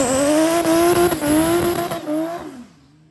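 A turbocharged 1JZ engine in a Toyota Mark X revs hard, a loud, close, rising mechanical roar that holds and then drops away quickly into quiet, with no voices.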